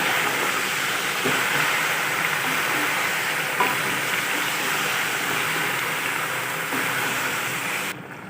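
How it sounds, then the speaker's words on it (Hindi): Mutton sizzling in a hot pan while being fried until its colour changes, a steady broad hiss and crackle holding evenly throughout, then dropping off abruptly at the end. "मिक्स करेंगे और कलर तब्दील होने तक फ्राई कर लेंगे।"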